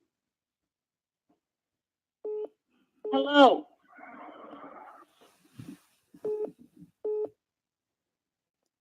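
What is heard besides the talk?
telephone line tones on a malfunctioning phone call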